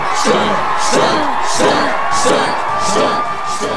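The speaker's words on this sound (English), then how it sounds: "And this crowd is going crazy." A large, loud crowd cheers and whoops for a stunt show with a ring of fire, the roar steady and close with repeated rhythmic chanting bursts rising every half second or so.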